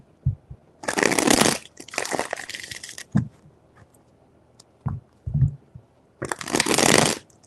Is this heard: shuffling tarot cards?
yes